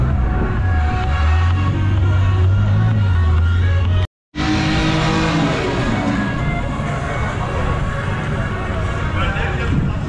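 A turbocharged Volkswagen Gol drag racing, its engine droning low before a brief cutout, then climbing in pitch as it launches down the strip, with background noise mixed in at a racing event.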